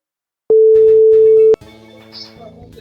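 A telephone line tone while placing a call: one loud steady tone lasting about a second, then a faint ringing or line signal with soft background sounds.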